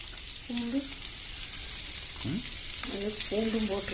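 Sliced onions and curry leaves sauté in oil in a pan until golden, a constant soft sizzle with a brief voice sounding over it now and then.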